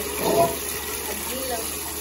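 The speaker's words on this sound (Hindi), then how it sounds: "पतीला रखा था ना, पानी डाल दिया" Water pours into a cooking pot in a home kitchen, making a steady, continuous rushing splash that swells slightly at the start and holds evenly throughout.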